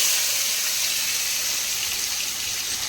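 Potato and papaya pieces tipped into hot oil already frying nigella seeds and green chilies give a steady, loud, close sizzle that holds evenly throughout without a break.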